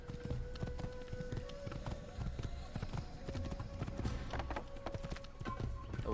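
Horse hooves clip-clop in a steady galloping rhythm in the Assassin's Creed video game, close and continuous over game music and ambience, with faint talk.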